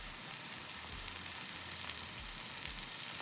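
Onion bhajis sizzle steadily in hot oil while making pakoras, a continuous close crackling hiss with no voices.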